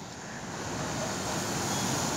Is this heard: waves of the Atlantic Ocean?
yes